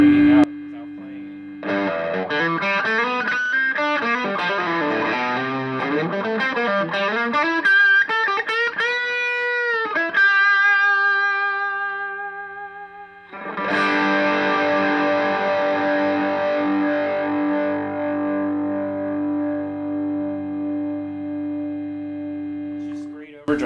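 An electric guitar plays overdriven chords and bends through a 5-watt amp with single-coil pickups breaking up, loud and close, with notes ringing out in long sustain after the playing stops.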